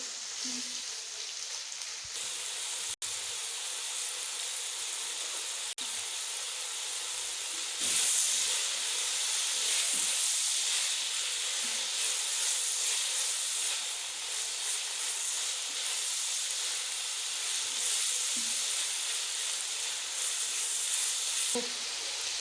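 Chicken, 250 grams, frying in a pan with garlic and ginger paste for homemade Chinese rice, giving a steady hissing sizzle that runs continuously with a few faint clinks and no talking.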